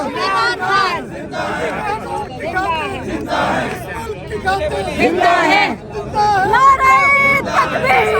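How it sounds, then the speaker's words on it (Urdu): Lawyers stand in front of the Supreme Court chanting slogans, a loud crowd whose voices rise and fall in rhythmic shouts throughout with steady babble underneath. "سپریم کورٹ کے سامنے وکلا کھڑے ہو کر نعرے لگا رہے ہیں"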